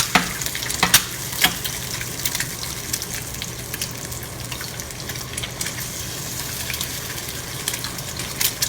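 Eggs frying in a pan over medium heat, a steady close crackling sizzle with a few sharper pops near the start, continuing evenly without talk.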